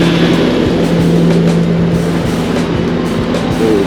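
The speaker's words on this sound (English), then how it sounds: "I'm on the skid steer real quick." A skid steer driving on a muddy gravel driveway installation site, its loud steady diesel engine drone running throughout with clanks and rattles over the top.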